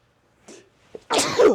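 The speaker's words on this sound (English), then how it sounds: "So hold for sneeze." A single sharp human sneeze bursts out close to the microphone after a short, soft intake of breath, loud and brief in an otherwise quiet room.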